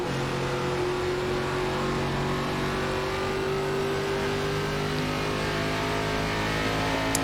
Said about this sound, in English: I'm pretty sure he's downshifting